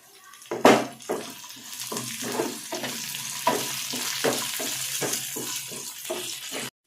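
Curry leaves spluttering in hot oil for tamarind rice made with raw tamarind, giving a close, crackling sizzle with sharp pops and bursts over steady frying noise, no voices.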